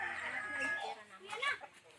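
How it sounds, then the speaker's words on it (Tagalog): Chickens clucking on a farm, a loud close run of clucks and squawks mixed with other bird calls and some background voice. "Alisin mo nga yung manok na yan."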